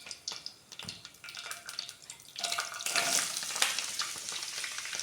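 Chopped onions hit hot oil already seasoned with cinnamon, cloves and cardamom for a Kerala-style chicken curry, sizzling loudly and building as they go in, with stirring and scraping over a steady fry.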